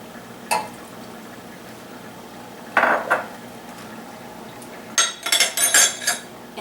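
A tablespoon clinks lightly against dishes while pure maple syrup is measured out for a pumpkin spice latte: a single tap, a pair of clinks a few seconds later, then a quick flurry of small metallic chinks near the end, with no talk.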